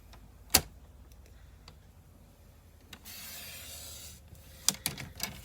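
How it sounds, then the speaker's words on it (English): Paper trimmer blade sliding through designer series paper at a crafting desk, a faint soft rasping swipe lasting about a second amid quiet clicks and taps of the trimmer. "I'm going to bring my cutting blades back in, my trimmer back in, and I'm going to do 3 1/4"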